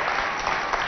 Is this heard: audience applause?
yes